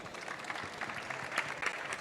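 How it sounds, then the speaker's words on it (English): Audience applause for the panelists at the close of a European Blockchain Convention panel, a steady wash of clapping from a moderate crowd in a conference hall. "A big round of applause for our panelists"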